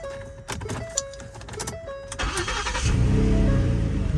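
A Lexus GX-470 starts up: a few clicks and electronic chimes, then the starter cranks and the engine catches into a steady, fairly close idle rumble.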